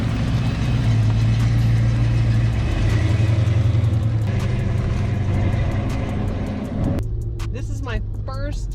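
Automatic ex-Georgia State Highway Patrol SSP Fox body Mustang driving, a steady low engine rumble and road drone throughout, with a voice talking over it near the end.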